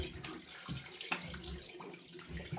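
Water runs at a bathroom sink as shaving lather is rinsed off a face after a Gillette G2000 shave, a steady close splashing with brief surges, no voices.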